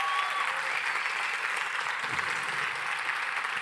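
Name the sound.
audience applause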